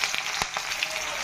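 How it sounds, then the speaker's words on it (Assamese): Onions frying in a cooking pot, a steady soft sizzle with a few faint crackles and pops, close and alone with no talk. "এই চাওক পিঁয়াজ ফ্ৰাই কৰা মোৰ হৈয়ে গ'ল, ৰঙচুৱা হৈয়ে গ'ল"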